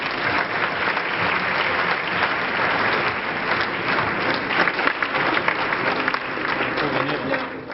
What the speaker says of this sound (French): On l'applaudit très très très fort.